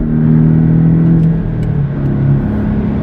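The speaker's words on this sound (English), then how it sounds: "Just listen to that exhaust note." A loud Porsche Cayman S exhaust note roars steadily up close on a track, its deep rumbling drone rising and shifting in pitch as the engine accelerates.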